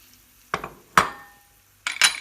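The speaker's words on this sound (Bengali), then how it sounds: "তেল গরম করিয়া আদা রসুনের পেস্ট দিলেই লাড়িয়া দিমু আর ফলিয়া রাখা পেঁয়াজ" Ginger-garlic paste and onions stirred in hot oil for a spinach shrimp curry, heard as a few short scraping clinks of a spoon against the pan in separate bursts, near and alone, with a faint sizzle beneath.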